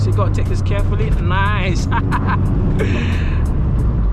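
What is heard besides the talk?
modified Vauxhall Astra VXR engine accelerating, traction control off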